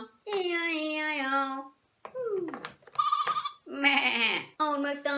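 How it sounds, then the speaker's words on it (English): A sheep bleat sung by a voice within a children's farm song, a long wavering baa repeated in several bursts, loud and close over music. "And on that farm he had a sheep"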